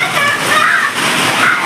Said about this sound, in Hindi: भाई बहुत तगड़ी बारिश हो रही है और आंधी तूफान आ गया है आज